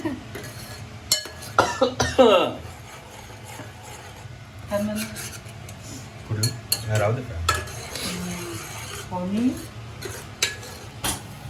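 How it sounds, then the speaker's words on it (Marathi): Onion-tomato mixture with curry leaves sautéed for misal pav, with scattered metal clinks and scraping of a spatula against the pan and a soft sizzle, heard close up amid some background voices. "आता आपण याच्यात कढीपत्ता थोडासा घातला कांदा आणि टोमॅटोचं मिश्रण मस्त छान परतून घ्यायचं"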